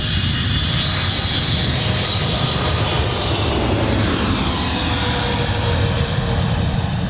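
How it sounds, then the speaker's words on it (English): Korean Air Flight 11, an airliner at LAX, roars steadily and loudly throughout, a continuous broadband engine rush heard from close range with no break. "here's Korean Air Flight 11"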